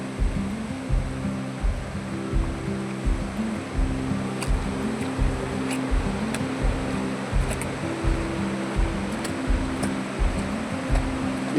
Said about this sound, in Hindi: मैं अभी पिंडर नदी के किनारे हूँ।